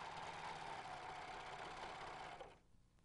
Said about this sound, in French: Vous pouvez maintenant coudre tout en guidant le passepoil sous la fente.